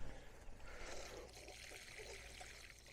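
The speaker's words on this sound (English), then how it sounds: "And just water it in good." Water poured over transplanted broccoli in a container garden in Texas, a faint soft trickle and splash running steadily for a few seconds, with no talk.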